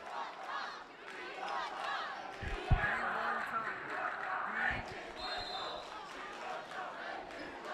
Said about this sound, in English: several chants coming from the crowd now